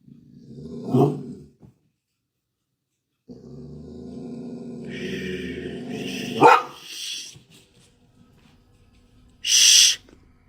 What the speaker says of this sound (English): the dog begins to growl and bark